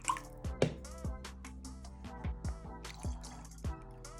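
Distilled water poured into a container for a homemade germ-killing mix, a run of close, distinct drips and gurgling plops with rising bubbly tones at an uneven pace.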